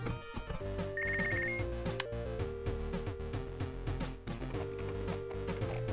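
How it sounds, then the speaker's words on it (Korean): Telephone ringing in the boxing management video game Punch Club: a brief electronic trill rings out over the game's busy background music and effects, with no talk. "집에 오자 전화가 걸려옵니다."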